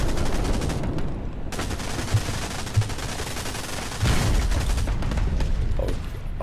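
Sustained gunfire in the WW2 shooter Hell Let Loose, with rapid bursts and scattered louder shots and booms over a constant battlefield roar, no talking.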